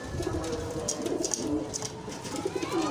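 Breeder pigeons in a Lahore loft coo in low, repeated rolling calls over a dense, steady background of flock noise, with several birds overlapping at moderate distance.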